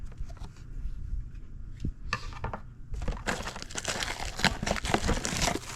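Scissors cutting open trading card blaster boxes, with crinkling cardboard and plastic wrap, snipping and tearing that grows louder and denser halfway through, close up with no voices.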